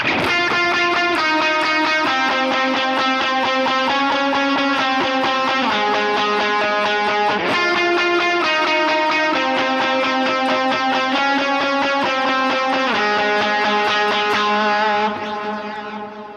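A lead electric guitar plays the switch-up section of a song's bridge, a sustained driving line of repeated notes heavy with distortion, delay and reverb. It is loud and continuous with shifting pitches, then fades slightly at the end, with no voices.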